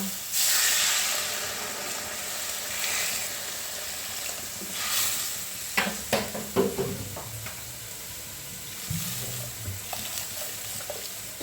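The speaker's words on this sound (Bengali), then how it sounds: "এবার এটাতে জল ঢেলে দেব" Water pours into a pan of hot frying spice paste for a boal fish curry, setting off a loud, steady sizzle and hiss with steam, broken by stirring scrapes and clinks near the end.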